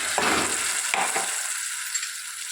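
Mint paste frying in a pan with curry leaves and turmeric, a steady close hiss of sizzling oil with a couple of soft stirring scrapes, no talk.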